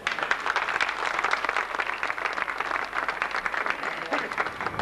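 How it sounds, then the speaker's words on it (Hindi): Crowd applause at a PTI political rally in Shahkot, Pakistan, a fairly distant, steady wash of many hands clapping continuously. "आप दोस्तों की भरपूर तालियों में"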